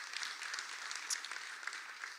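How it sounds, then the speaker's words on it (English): An audience at a housing development industry forum claps for sponsors, a brief, fairly faint patter of steady applause with no voices over it. "Can I get a round of applause for these guys?"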